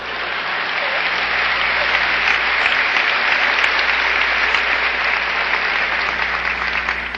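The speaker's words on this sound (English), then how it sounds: "it's premature, your applause" A large audience applauds steadily, dense clapping holding at an even level throughout.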